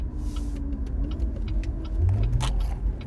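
A Cadillac ATS-V twin-turbo sedan downshifting at half throttle: steady engine rumble inside the cabin, with the pitch shifting as the gear changes and rising revs swelling near the end, with no talking.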